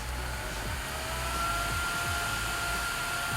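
An Ausget bladeless neck fan runs on its highest speed setting, level 3, giving a loud, steady airy whoosh with a faint whine, continuous throughout with no talking.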